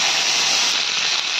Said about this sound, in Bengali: এবারে আমি কেটে রাখা বিট আর আলু দিয়ে দেবো।